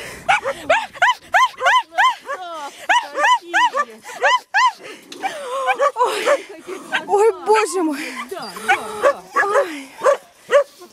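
Several small dogs bark and yelp in quick, high-pitched bursts close by, with whimpers mixed in and a voice exclaiming over them.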